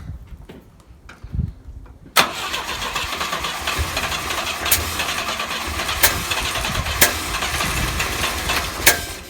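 A Volvo 122S Amazon that sat for 23 years is cranked with a few faint turns, then catches and fires into a loud, rough, running engine with uneven surges and occasional sharp bangs close by.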